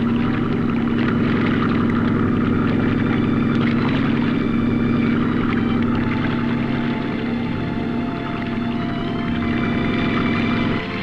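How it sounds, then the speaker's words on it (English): A boat engine drones loudly and continuously, a deep steady rumble with a constant low tone throughout. "The engine is slowed to reduce the noise."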